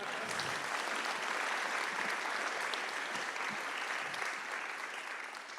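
Sustained applause from an audience at a physics event, a dense, even wash of many hands clapping that stays steady and loud throughout without speech.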